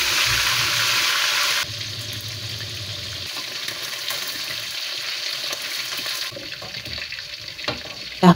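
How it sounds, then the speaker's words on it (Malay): Chicken pieces frying in hot oil for sambal ayam, a steady close sizzle with a louder burst at the start, with faint clinks of stirring and utensils toward the end. "Goreng ayam tu hingga masak."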